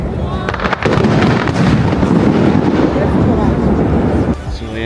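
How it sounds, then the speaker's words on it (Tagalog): Dense, rumbling crackle of fireworks bursting continuously for several seconds near Lau Pasat in Singapore, loud and close, with a voice heard briefly at the start. "May fireworks, so eksakto pa oh."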